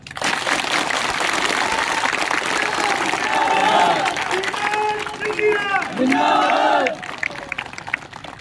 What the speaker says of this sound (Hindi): अगर मेरे बात से सहमत हो तो जोर से ताली बजाओ।